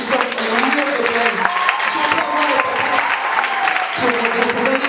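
A worship congregation applauds and acclaims in continuous, busy clapping, with voices and tonal cries carried over it and a brief dip partway through.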